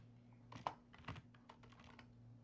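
Quick keystrokes on a computer keyboard as a search query is entered, a light irregular run of clicks heard close and fairly soft over faint background hum, with no voices.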